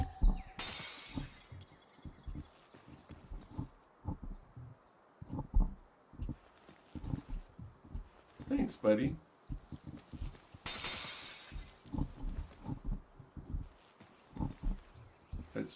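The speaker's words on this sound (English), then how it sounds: "That sweet shatter noise." Glass shattering in the creature-collecting survival game Palworld, two loud bright crashes of breaking glass about ten seconds apart, amid scattered footsteps, animal-like grunts and a quiet speaking voice.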